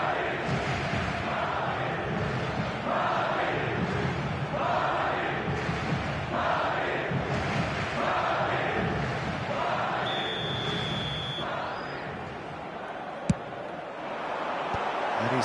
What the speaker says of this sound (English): it's applause all round us here